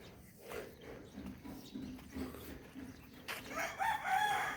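A rooster crows at a distance over steady outdoor background noise in a new-construction subdivision, with a louder, brighter burst of sound building near the end.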